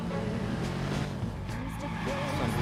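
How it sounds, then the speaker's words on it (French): A car drifting in Watch Dogs keeps its engine roaring and its tires squealing as it skids through a turn, loud and steady under a player's voice. "C'est un bruit d'enfer, tu driftes à tous les virages"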